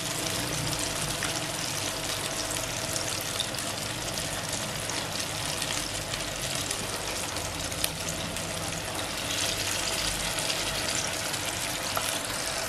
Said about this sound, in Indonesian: langsung aja kita goreng di api kecil cenderung sedang